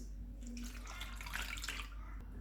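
Orange (malta) juice poured into a bowl of chutney for fruit chaat, a steady close liquid pour and splash running through without talk.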